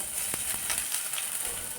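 Steady hissing sizzle of onions frying in hot oil, with a few soft clicks and pops, close and continuous.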